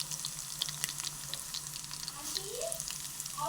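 Garlic, dried red chilies, cumin and mustard seeds sizzle steadily in hot oil as a tempering for dal, a dense crackling fry with small pops and spatters, close and continuous with occasional stirring scrapes.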